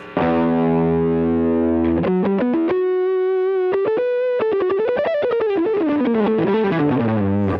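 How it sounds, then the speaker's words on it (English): Electric guitar through a fuzz pedal set to half holds a sustained chord, then plays quick staccato notes and a bending, smooth lead line with a thick saturated tone. "So now let me turn the fuzz to half."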